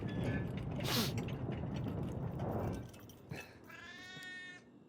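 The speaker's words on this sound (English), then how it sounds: "there's that little kitten" A little kitten mewing in a video game cutscene, several high, thin meows over a low rumbling scene soundtrack, ending in a clear drawn-out cry near the end.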